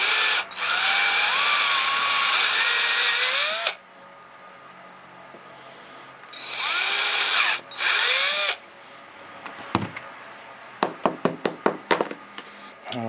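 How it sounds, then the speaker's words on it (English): A dull drill bit sharpened on a power grinder, with two long bursts of high whining grind near and loud, short gaps between them, then a quick run of sharp knocks and taps at the end. "I'm gonna grab the dullest bit on earth. Oh my, let me go sharpen that."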